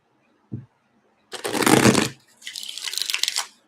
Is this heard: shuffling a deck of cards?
yes